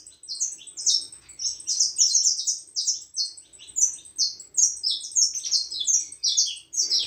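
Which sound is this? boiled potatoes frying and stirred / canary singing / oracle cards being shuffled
canary singing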